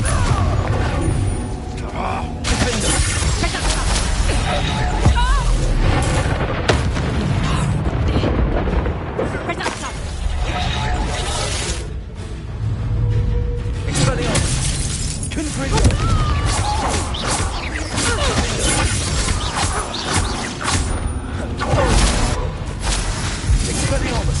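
Fiery Confringo blast spell exploding during combat in Hogwarts Legacy, a loud, dense stretch of booming bursts and crackling impacts that continues almost nonstop under game music and effects, with voices in the mix.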